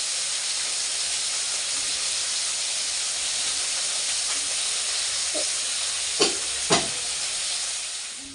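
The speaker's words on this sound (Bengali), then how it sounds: "এই যে আমুদি মাছ ভাজা হচ্ছে" Amodi fish frying in a pan of oil gives a steady, close hiss that runs throughout, with two brief utensil clinks near the end.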